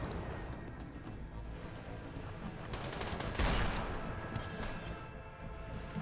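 Rapid bursts of video game gunfire crackle continuously in a multiplayer battle, loud and dense throughout, with a heavier volley swelling near the middle.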